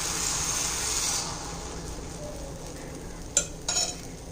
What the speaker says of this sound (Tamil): தோசைக்கல் நல்லா சூடானோடனே ஒரு கரண்டி அளவுக்கு மாவு எடுத்து ஓரத்துலேருந்து உள் பக்கமாக விடுற மாதிரி ஊற்றுங்க.